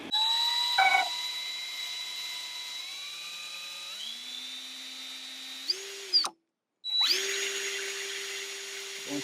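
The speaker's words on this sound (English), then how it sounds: "Going straight into it now." A power drill bores into a broken windscreen bracket on a BMW R1200 GS Adventure motorcycle, its close, loud whine climbing in pitch in steps as the bit works through, then cutting out briefly before spinning up again.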